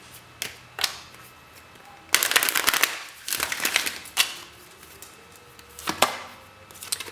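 A deck of tarot cards is shuffled in bursts of crisp riffling and slapping, with a long flurry in the middle and sharp taps between, close and alone without talk.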